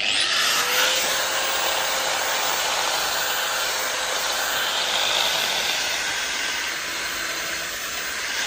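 Mortar being raked out from between old bricks on a damaged barn corner with a power tool: a loud, steady grinding whine and broad hiss, close and unbroken throughout.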